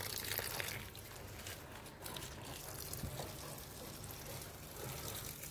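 Plants being watered, a steady trickle and splash of water running continuously at moderate level, with faint household background noise and no clear talk.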